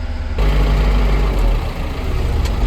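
A cold wheel loader idles while warming up after starting outside, its engine a steady, loud, close low rumble that runs alone with no talk.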